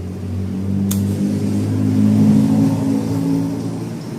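Electric bike with a freshly replaced throttle grip, ridden after a fall: a steady, loud motor whir and hum running throughout, rising slightly in the middle, with a brief click near the start and no talking.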